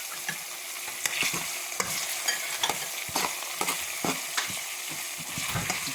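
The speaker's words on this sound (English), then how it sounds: "All we have to do is make the onion soft." Sweet onion softens in a hot pan as a utensil stirs it, a close steady sizzle broken by frequent rhythmic scrapes and taps against the pan.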